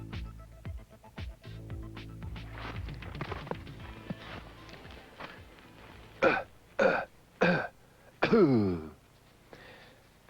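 A person imitates a whitetail buck's cough-grunt: a few low throaty sounds, then several short, forceful exhaled bursts spaced about half a second apart, close and alone.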